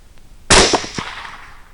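A single sharp rifle shot rings out while hunting hogs in Bosque County, Texas, close and loud with a sudden crack, followed by a short rolling echo that fades within a second.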